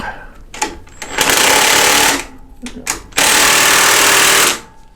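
A power driver tightens the bolts on a Road King windshield fitted to a 1986 Harley Davidson Heritage Softail. It makes two loud, sustained whirring bursts with short clicks and handling noises between them, very close by.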